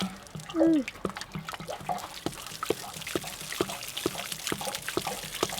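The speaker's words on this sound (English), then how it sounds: "drain the hot water heater of the rest of the water" Water drains from a Forest River Wolfpack camper's hot water heater after its plug is pulled, with close, continuous splashing and pouring marked by irregular drips. A brief voice-like tone comes early.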